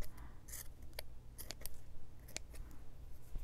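Scissors snip through scrap paper for junk journal ephemera, a quick series of crisp, close cuts spaced irregularly over a few seconds, with no talking.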